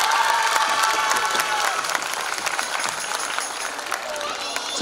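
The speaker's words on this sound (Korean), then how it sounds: "한 해 동안 여러분들의 수업을 위해서 고생이신 선생님들께 큰 박수 한번 부탁드리겠습니다" Students clap and cheer for their teachers at a high school festival, dense applause with crowd noise and voices mixed in, tapering slightly.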